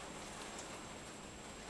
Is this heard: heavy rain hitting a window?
yes